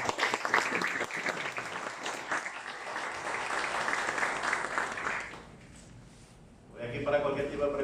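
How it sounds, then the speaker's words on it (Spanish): An audience applauds steadily at an emergency-services institutional talk, with dense clapping for about five seconds before it fades. A brief lull follows, then a voice speaks. "Vamos a dar un aplauso a todos ellos."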